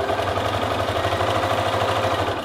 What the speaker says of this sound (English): I drop my presser foot, bring my needle down, just begin sewing back stitch